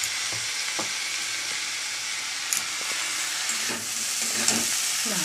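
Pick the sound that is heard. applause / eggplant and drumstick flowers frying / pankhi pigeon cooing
eggplant and drumstick flowers frying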